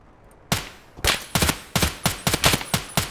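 Rapid bursts of gunfire from Escape From Tarkov, about ten loud sharp shots in an uneven, quickening rhythm after a brief quiet start, close and dry with no talking.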